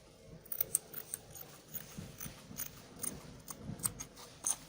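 Scissors snip through chiffon fabric while cutting out a dress neckline, with a run of quiet, close, crisp cuts in an otherwise hushed room.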